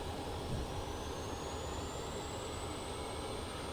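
A Boeing 737 MAX 8 engine starts in the iFly flight simulator. A steady, even jet roar runs throughout, with a faint whine that slowly rises as the engine spools up, and no voices.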